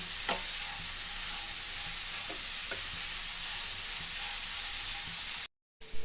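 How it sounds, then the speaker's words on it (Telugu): Grated carrot sizzling in ghee for carrot halwa, with a soft, steady frying hiss and a few light scrapes of the stirring spoon, heard alone with no talking. "ఈ క్యారెట్ని బాగా కలుపుకొని కొంచెంసేపు నెయ్యిలోనే కుక్ చేసుకోవాలండి"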